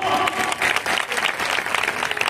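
A church congregation at a Christmas festival service claps together in a loud, dense burst of applause that lasts throughout.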